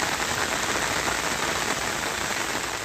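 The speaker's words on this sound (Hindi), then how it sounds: "सिर्फ बारिश की आवाज है" Steady heavy rain pours over a flooded residential neighbourhood, a dense continuous hiss of drops on water and roofs, loud and unbroken with no voices.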